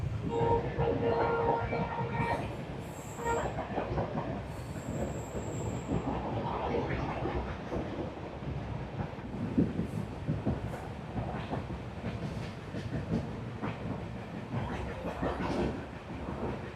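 The 13125 Kolkata Sairang Express running on a scenic route in Assam, a steady rumble of wheels on track with rhythmic clatter and a couple of brief high squeals early on.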